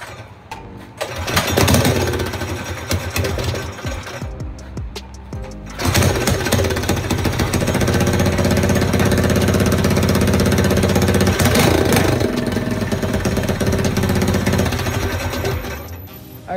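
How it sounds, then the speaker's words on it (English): A Manco Dingo go-kart engine fitted with a stage one kit starts and runs: a loud, steady rattling small-engine drone that briefly stops near the six-second mark, restarts and holds evenly, with no talking. "So I installed the motor and the stage one kit. So now it's time to see if it runs."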